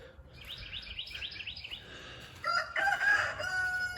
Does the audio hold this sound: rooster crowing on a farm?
yes